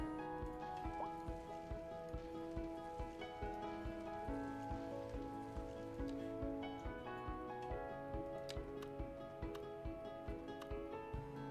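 Heavy storm rain pours down on a city in Cities: Skylines 2, a dense steady patter of drops on surfaces with a low rhythmic ticking, music-like tones running faintly beneath, with no talk.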